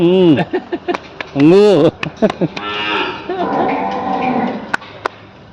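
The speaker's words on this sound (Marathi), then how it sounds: "थार पारकर गाय ही फार आवडतीची गाय आहे माझी" A Tharparkar cow moos loudly and close by in two long calls, and someone talks and calls to it between and after the lows at a desi cattle conservation and research centre in Pune.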